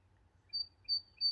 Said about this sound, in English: He's like a little bird, but he's got a loud